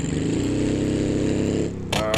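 A car with its exhaust broken off drones loudly and steadily on a monster truck course. The raw engine runs harsh and close, then cuts into a brief clattering burst near the end.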